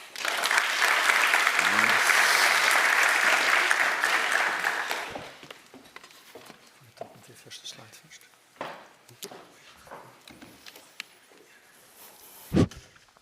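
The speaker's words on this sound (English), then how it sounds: "Warm applause." Audience applause at a Show&Tell 2024 presentation, a loud sustained clapping for about five seconds that fades out, followed by scattered shuffling and handling noises before a speaker begins.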